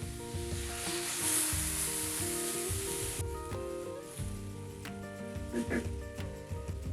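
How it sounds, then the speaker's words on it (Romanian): Broth poured into a hot pan with chickpeas and olives, a loud steady sizzle that eases into quieter frying and stirring, with a voice speaking over it. "turnăm supa"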